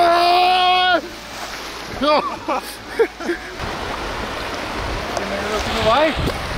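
A fast, swollen river in Langsua National Park in Norway rushes steadily in high summer water while people wade across. Voices call out briefly over the constant roar of the current.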